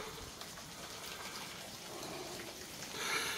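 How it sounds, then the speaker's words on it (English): Little water drops falling off a sandstone cliff beneath the Alum Cove Natural Bridge in Arkansas, a soft steady patter and trickle outdoors, slightly louder near the end. "so I'm getting little drops falling off the cliff here."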